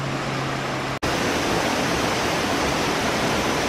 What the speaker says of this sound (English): I'm at the waterfalls in the middle of the jungle. I can hear the sound. Oh look, here's the flowing water.